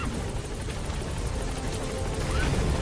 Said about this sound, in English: the helicopter just doesn't have space to land